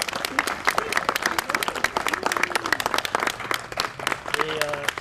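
Audience applause at a cultural event in a French-speaking community, a steady patter of many hands clapping throughout with a voice speaking over it near the end.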